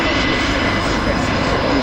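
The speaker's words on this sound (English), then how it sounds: "This one of the Airbus test aircraft." An Airbus test aircraft at the Fairford Royal International Air Tattoo airshow, its engines giving a loud, continuous broadband roar that stays steady throughout.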